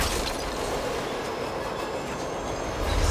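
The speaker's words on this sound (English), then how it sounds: "Now, Dalton would be proud because he literally took the train." Subway train from the Matrix film scene rumbling steadily along the rails, a continuous loud roar of wheels and carriage noise with faint clatter and squeal, no voices.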